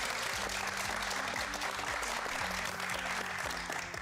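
A studio audience claps warmly for guests arriving on a Pakistani entertainment talk show, a steady burst of many hands close by, with faint music-like tones underneath, lasting the full few seconds.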